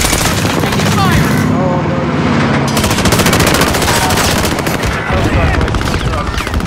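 Rapid machine-gun fire and scattered gunshots rattle close and loud during a Call of Duty Warzone match on Caldera, with voices calling out over the shooting.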